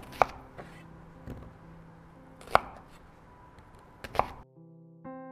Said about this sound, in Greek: Συνεχίζω με τα κρεμμύδια μου, 2 μέτρια κρεμμύδια. Τα χοντροκόβω.